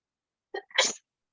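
A single sharp human sneeze, close and loud, with a short in-breath just before the burst, alone in an otherwise silent room.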